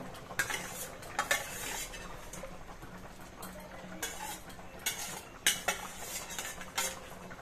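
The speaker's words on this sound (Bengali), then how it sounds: "এখন দিয়ে দেবে চিংড়ি মাছগুলো" Prawns are stirred in a pan with raw pumpkin, a metal spatula clanking and scraping against the pan in irregular close strokes over a faint sizzle, with no talking.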